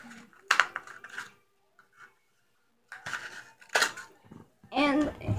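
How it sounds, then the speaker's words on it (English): Scissors snip through craft material for a homemade marker holder in a few short, crisp crunching bursts separated by quiet gaps, close up, followed by a brief voice sound at the end. "take a pair of scissors, cut through it like this"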